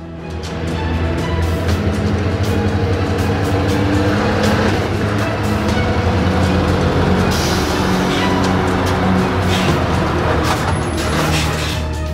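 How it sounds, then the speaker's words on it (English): A 2017 Scania S580 truck pulls in, its engine a steady loud rumble that stays close and unbroken for about twelve seconds. "And Nolan's truck there, the S580, just pulling in"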